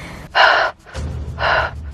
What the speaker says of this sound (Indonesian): Kok suara dia ngos-ngosan?